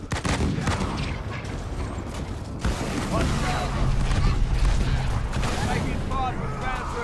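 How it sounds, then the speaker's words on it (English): Enemy gunfire in the sci-fi strategy game Halo Wars 2, a dense continuous stream of shots and mechanical clatter mixed with battle noise, loud and sustained throughout, with no one talking. "Taking fire from Foundry."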